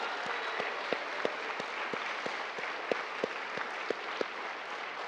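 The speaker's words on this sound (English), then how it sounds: "Can we give them one more round of applause" Audience applause in a school award ceremony, a soft steady patter of many hands with sharper individual claps standing out at a regular pace, heard from a distance and fairly quiet.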